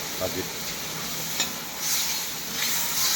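A curry of fish, potato, tomato and onion being fried and stirred in a pan, giving a loud, close, steady sizzle with occasional scraping stirs and bursts of hiss.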